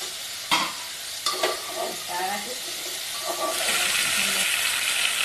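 Drumstick pieces, potato and tomato stir-fry with spices in a kadai: a few scraping stirs give way to a steady, growing sizzle and hiss, with a voice speaking softly over it.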